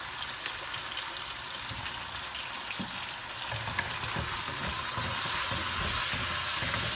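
Chicken sizzles steadily in a hot pan with chili sauce, vinegar and soy sauce, a close, dense crackle that holds even throughout and grows slightly louder toward the end, with no voices.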